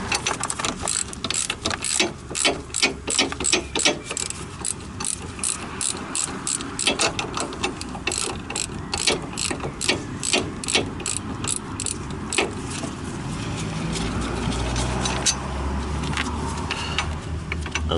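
Rapid ratchet clicking while undoing the 15mm brake caliper holder bolts on a Ford Transit Connect, steady bursts of close, loud pawl ticks with short pauses between, no voices.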